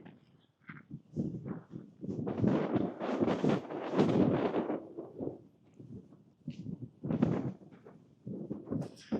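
Gusty wind buffets a microphone up high, rising and falling in loud rumbling bursts across the whole stretch, with no talking.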